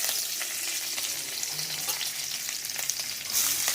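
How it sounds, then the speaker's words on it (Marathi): Cumin, mustard seeds and curry leaves sizzle in hot oil in a home kitchen: a close, steady crackle with scattered sharp pops and no talking. "तरकारी अन्न करण्यासाठी तेल गरम करायला ठेवलं आहे. जिरे, मोहरी, कढीलिंब,"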